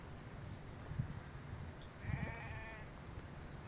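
A sheep bleats in the survival video game The Infected, two short wavering calls over a low ambient background, fairly near and with no speech.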